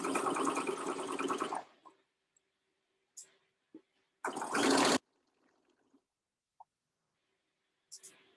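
A sewing machine stitches through seam allowances and a garment layer on a child's dress, running in two short motor bursts with quiet handling sounds and small clicks between them.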